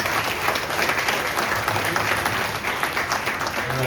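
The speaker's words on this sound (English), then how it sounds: "please join me one round of applause again to all of our panelists" A conference audience applauds a discussion panel, steady dense clapping sustained throughout at moderate loudness, with no voices.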